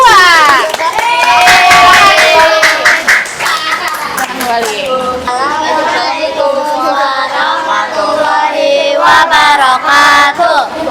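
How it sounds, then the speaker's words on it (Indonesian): A classroom full of fifth-grade children claps loudly and continuously, with cheering and shouting mixed into the applause. "Tepuk tangan untuk kelompok 2."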